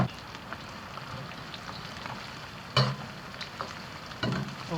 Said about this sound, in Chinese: 这等于是炸熟了这个鸡肉。